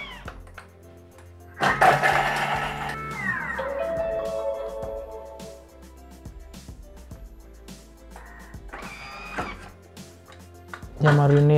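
A Thermomix food processor whirs loudly in a short five-second burst chopping shallot, then quieter mechanical clatter and thuds follow.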